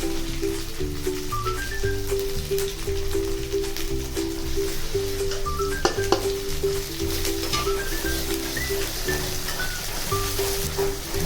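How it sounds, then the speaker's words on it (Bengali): Spice paste frying in a pan with salt, turmeric, chilli powder and chicken masala for a sole fish curry, giving a steady close sizzle and hiss throughout, with faint stirring scrapes and background music playing underneath. "ভালো করে ভেজে নিতে হবে।"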